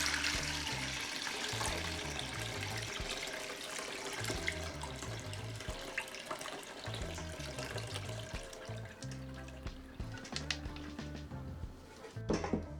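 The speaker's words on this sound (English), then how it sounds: "So let's start straining. And I'm going to just start pouring." Jamaican sorrel drink made from dried sorrel pours through a strainer in a steady, continuous liquid stream, running close and fairly loud with a low rhythmic background beat underneath.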